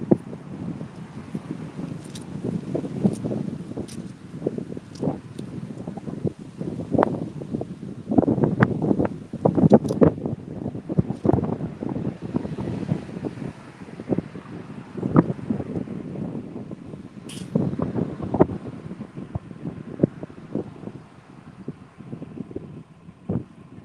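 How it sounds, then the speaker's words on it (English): Strong wind outdoors buffets the microphone in continuous rumbling gusts and rustles, loud and close throughout with sharp bursts and no voices. "But it's very, very windy out here."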